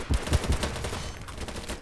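Rapid gunfire crackles in BattleBit Remastered on a construction site map, with dense, close bursts of shots in quick succession and no talk.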